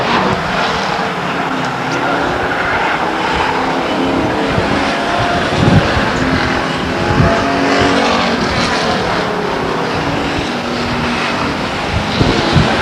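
Race cars roar around Stockton 99 Speedway during the closing laps of a qualifying heat in 1999, a dense, continuous wash of engine noise heard from a distance with no clear break or voice.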